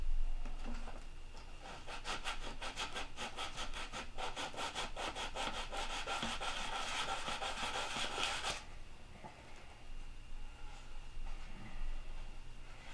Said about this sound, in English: if you take a Dremel and just stay right on the plywood, then you can blend the balsa wood into it